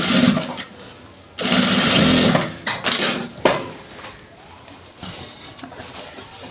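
A sewing machine stitches a sleeve onto a kameez at the shoulder seam, with loud motor bursts starting and stopping in short runs, some mechanical clicks between them.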